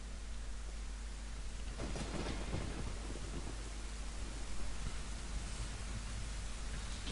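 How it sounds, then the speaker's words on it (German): Thunder rolls and rumbles through a rainstorm in a Zelda: Ocarina of Time cutscene, swelling to a heavy, booming peak partway through over the steady hiss of rain. "Es donnert auf jeden Fall mal."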